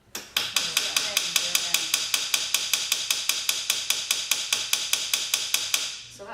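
A round hammer strikes silver at a jeweller's bench, about thirty sharp metallic blows in a fast, even rhythm, close and crisp, each with a short ringing decay.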